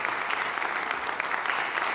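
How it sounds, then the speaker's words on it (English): Steady, dense applause from an audience at an athletic hall of fame induction ceremony, continuous and even throughout with no voices standing out. "Let's have a nice round of applause for all of these"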